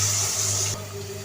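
Water is poured into ginger, garlic and turmeric frying in a pan for chicken curry, a brief splashing gush that cuts off abruptly partway through.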